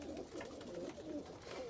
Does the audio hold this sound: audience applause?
no